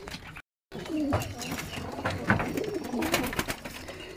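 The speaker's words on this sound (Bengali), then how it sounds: "এই কবুতরগুলো এখান থেকে সরিয়ে ফেলবো" Pigeons cooing inside a loft, several soft throaty coos overlapping close by with some fluttering and rustling, plus a brief silent gap near the start.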